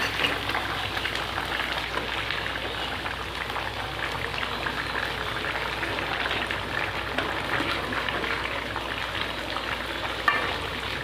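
Tilapia fish frying in a pan gives a steady, even sizzle of hot oil that holds at a moderate level throughout, with no talking over it.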